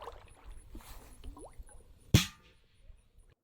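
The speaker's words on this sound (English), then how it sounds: "Also, a gun going off underwater." A .22 caliber gun fired underwater in a swimming pool gives one sharp, loud muffled crack followed by a short decaying rumble, over faint bubbling and dripping water.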